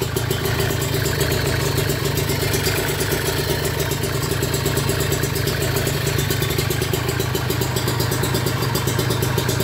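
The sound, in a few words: Kawasaki Ninja RR motorcycle engine idling, carburetor with open filter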